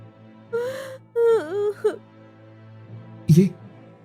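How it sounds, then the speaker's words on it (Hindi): A woman crying in an animated magical pearl palace story, with a few separate sobbing, gasping and whimpering bursts over a steady low hum, close and moderately loud. "ये रोने की आवाज, ये किसकी है?"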